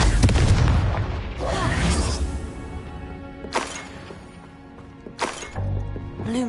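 A Confringo fire spell explodes in Hogwarts Legacy with deep, booming bursts, a heavy blast at the start followed by further thuds and whooshing impacts, loud and close.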